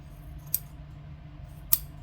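Two separate crisp snips of scissors cut through a T-shirt at the seams. The first comes early and the second about a second later, each short and close over a quiet background.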